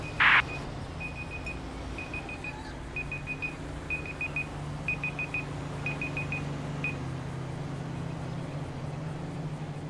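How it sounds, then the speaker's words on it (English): Repeated electronic timer beeps in Grand Theft Auto V with the LSPDFR police mod, sounding in short clusters of rapid pips after one louder opening tone, steady and fairly close over a low engine-like rumble. "That's the timer going out."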